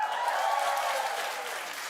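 Studio audience at a daytime talk show clapping steadily, a dense sustained round of applause filling the whole stretch at moderate loudness and tapering slightly toward the end.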